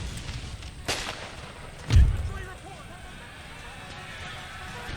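Artillery fire support in Empire: Total War, a strategy game with period cannons, heard as two distant booms, the second a deep heavy thud, over a low battlefield rumble.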